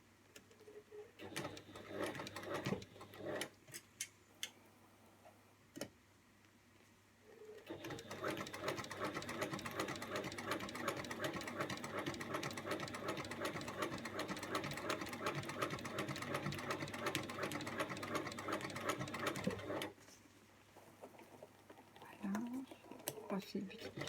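Sewing machine stitching a seam, running in a fast even whir for about twelve seconds between quieter moments of handling and soft speech.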